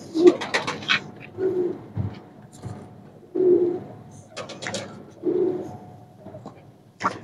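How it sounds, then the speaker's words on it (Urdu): Saharanpuri teddy pigeons coo in repeated low, throaty bursts about every second or two, close and clear, with a few sharp clicks and rustles between calls. "یہ ملے جلے ہی ہیں، یہ کبوتر"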